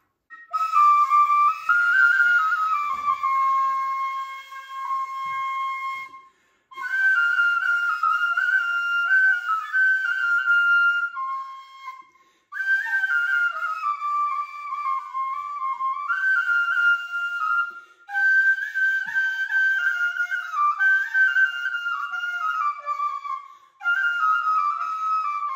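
A duduk, the traditional wind instrument called kfil in the Lezgin highland village of Shimikhyur in Dagestan, plays a bright, whistle-like melody alone in several long phrases separated by brief pauses.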